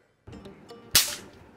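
A single sharp crack of a toy cap gun cap being fired, loud and close, after a few faint soft clicks.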